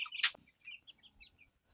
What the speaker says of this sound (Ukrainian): є курочка з стадом